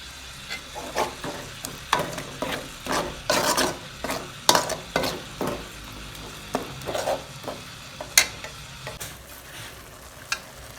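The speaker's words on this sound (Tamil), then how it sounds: "ஓகே, நல்லா கொதிஞ்சிட்டு இருக்கு." Butter chicken masala curry simmering in a pan with butter, a steady bubbling broken by scattered spoon knocks and scraping stirs against the metal, close and moderately loud with no talking.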